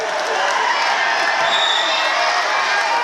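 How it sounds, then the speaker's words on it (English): A basketball arena crowd at a FIBA AmeriCup 2021 pre-qualifier game between Suriname and Saint Lucia roars and cheers in a dense, steady, loud wash of noise that never lets up. "Dennis is trying to calm the crowd. He can't."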